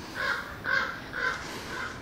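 Crows caw four times in an even rhythm, moderately close and clear, with no other sounds around them.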